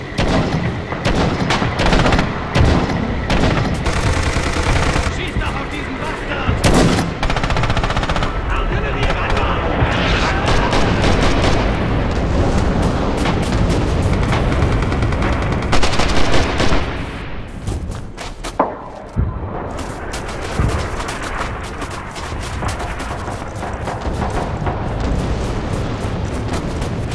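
Rifle and machine-gun fire crackles through a Red Orchestra 2 Stalingrad battle, dense bursts and heavy booms filling most of the stretch, with shouted voices mixed in.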